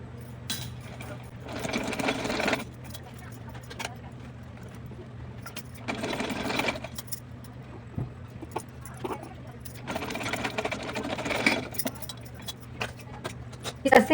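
A sewing machine stitches through heavy velvet backed with buckram in three distinct runs of rapid, rattling stitching. A low hum fills the quieter gaps between the runs.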